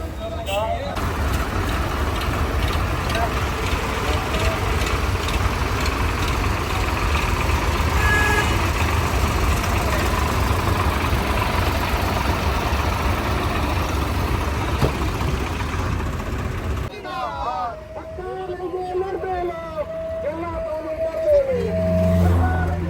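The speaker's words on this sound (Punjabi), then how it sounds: "ਟਰੈਕਟਰ ਟਰੈਕਟਰ ਆ ਦੇਖੋ" A 4x4 tractor engine runs at a protest rally in Ropar, a loud, continuous rumbling drone that drops away near the end, with people talking over it.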